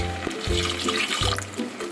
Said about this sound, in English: Now I am going to add little bit water.